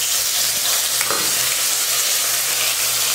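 Mustard seeds and urad dal crackle and fry in hot oil as a tempering for cabbage stir-fry, a loud continuous sizzle with faint pops, no one talking.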